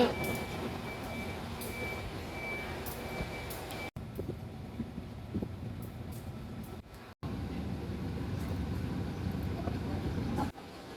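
A diesel railcar running as train 279 approaches Ban Khlong Luek border station, with a steady low engine rumble and a thin tone during the first few seconds.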